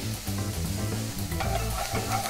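Onions and garlic sizzle and crackle in a hot pan for a veggie omelette, a close, steady frying hiss with a low background hum.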